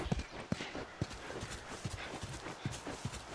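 Horse hooves clip-clop at a steady walking rhythm in the video game The Last of Us, each strike clear and fairly close over a low background hum, with no talking.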